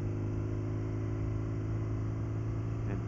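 A motorcycle engine lugs along at low RPM in third gear, a steady low rumbling drone with no change in pitch, close and continuous, under wind noise.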